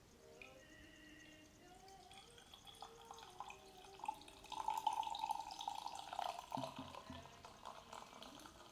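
Master Pint lager from a home-brew kit glugging into a glass, a soft continuous liquid trickle that swells into a fuller, louder pour midway, heard up close with no talking.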